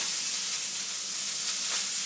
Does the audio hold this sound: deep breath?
no